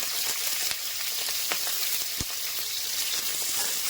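Onion and potato frying in a pan, a steady close sizzle with a few sharp crackles and pops running throughout, no talking.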